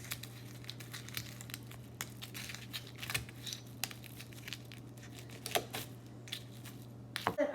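Kitchen shears cutting through lobster shells, a run of crisp crackling snips and crunches against a steady low hum, close and fairly quiet.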